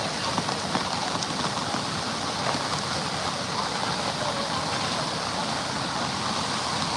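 Rainwater pours across a bridge in the Konkan during the first monsoon rain, water that cannot drain through the blocked pipes below, making a steady broadband rush of flowing water that stays even and continuous throughout.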